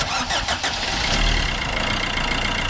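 A garden tractor engine cranks briefly with a few rapid starter pulses, then catches and runs at a steady loud idle close by.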